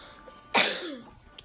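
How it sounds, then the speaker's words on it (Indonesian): A single sharp cough from a man pausing while playing a football management mobile game, one loud burst fading quickly against a quiet room. "sorry aku mau batuk guys"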